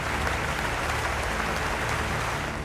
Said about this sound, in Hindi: तालियां वो भी बजा रहे थे और ट्रूडो भी।